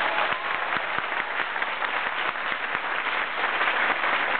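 Sustained audience applause at the opening of a live radio quiz-show recording in Peyrins, a village in the Drôme, dense steady clapping filling the room without pause and no voices over it.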